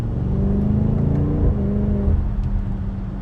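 A 2021 BMW X6M Competition, 625 PS with an 8-speed ZF automatic, set to its sportiest mode in manual, accelerates with a deep, steady engine drone heard from inside the cabin. The tone rises and then shifts briefly around a gear change.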